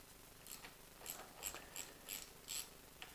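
A ratchet loosens the 12 mm pinch bolts on the front wheel of a DRZ 400 motorcycle, giving a quiet series of about six sharp clicking strokes spaced at roughly even intervals over steady background hiss.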